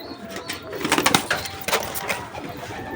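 Giribaz pigeons cooing softly at close range, a few low murmuring calls bunched near the middle over light background noise, with no talk.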